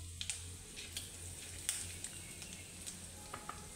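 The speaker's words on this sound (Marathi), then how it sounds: "मोहरी चांगली तडतडली की त्याच्यात थोडं जिरं घालतो आहे" Mustard seeds and cumin splutter in hot oil for a tempering, a low steady sizzle broken by scattered sharp pops and crackles, fairly quiet and with no voices.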